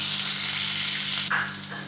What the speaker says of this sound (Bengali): আলু পেঁয়াজ রসুন এগুলো একটু